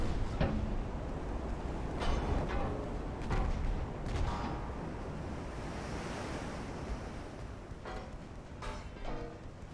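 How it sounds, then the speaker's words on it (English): Warship guns fire in the naval battle game Ultimate Admiral: Dreadnoughts, several muffled distant thuds spread over a steady roar of wind and ocean surf, with no talk. "Is he firing on his own ship?"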